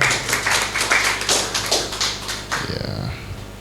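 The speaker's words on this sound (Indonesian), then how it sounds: "Tepuk tangan untuk beliau." A short burst of audience applause, scattered claps rising and fading over a few seconds, with a voice briefly heard near the end.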